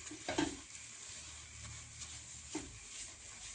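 Semolina for halva being stirred in a pan, soft scraping strokes with two sharper spoon scrapes over a faint, steady sizzle, quiet and close.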